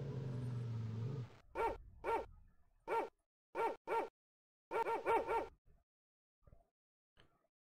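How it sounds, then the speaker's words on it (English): A Rottweiler at a warehouse in the video game Blue Force barks in short bursts, single and doubled woofs spaced irregularly after a brief buzzing tone, then trailing off into near silence. "Oh, I hear a dog."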